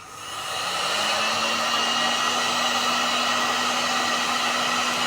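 A hair dryer blows steadily to heat a diode on an electronics bench, a broad close airy roar with a faint motor whine that rises in the first half second and then holds even to the end.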